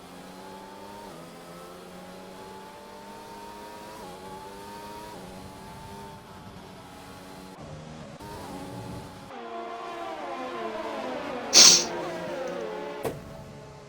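Race cars in a racing video game lap a Russian circuit, chasing a safety car, with steady engine drones and pitch shifts that rise and fall as cars pass, ending with a sharp high whine near the close.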